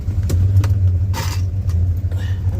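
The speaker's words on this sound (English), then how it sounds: "Got a little exhaust leak." A 1972 Buick Skylark engine idles with a small exhaust leak, giving a steady low rumble close by, punctuated by a few sharp clicks and a brief hissing burst.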